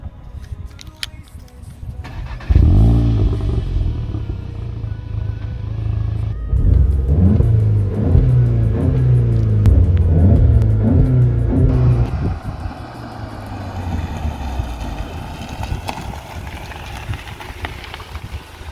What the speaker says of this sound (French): un 4 cylindres avec un beau petit turbo qui ronronne bien, on va l'entendre